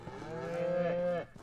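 A cow in the video game Ranch Simulator gives a single sustained low moo, close and loud, swelling and holding for about a second before cutting off.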